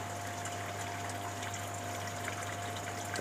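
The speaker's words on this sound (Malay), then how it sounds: "Itu sahaja pump yang berbunyi." A small pump and falling water in a RAS fish farming system make a steady, continuous hum and splashing rush at even loudness throughout, with no voices.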